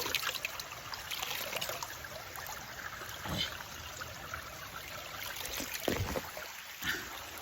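Cool, clean water flows steadily through a stream near the Dedugala waterfalls in Kegalle, a continuous trickling wash that stays fairly faint, with a few louder splashy surges and no voices.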